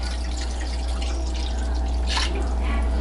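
Water splashes and drips steadily, as if poured into a pot, with a constant low hum underneath.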